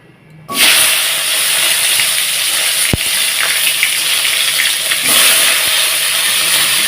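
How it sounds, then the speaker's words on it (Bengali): Potatoes and cauliflower fry together in a pan, a steady loud sizzle and hiss that kicks in abruptly and holds throughout, with a sharp clink partway through. "এখন এর ফুলকপি আলুটাকে ভেজে নেব"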